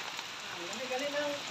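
Rain falls steadily on a surface at a construction site, a dense even patter with no breaks in it.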